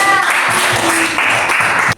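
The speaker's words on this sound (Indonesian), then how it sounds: "Beri tepuk tangan untuk kelompok 3" A room full of people applauds a group after its presentation, a steady, dense wash of clapping that holds for about two seconds and then stops abruptly.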